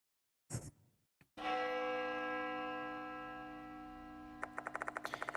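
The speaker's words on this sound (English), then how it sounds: "The sound of a bell rings loudly in my ears. Must be coming from the school clock tower." A school clock tower bell in the horror game Spirit Hunter: Death Mark II rings out in one loud sustained toll that slowly decays, preceded by a short thud and followed by rapid rhythmic ticking.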